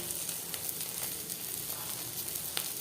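Chopped okra fries in a pan with salt and turmeric, giving a steady, soft, fairly quiet sizzle and crackle that runs unbroken throughout, with a few faint utensil ticks and no voices.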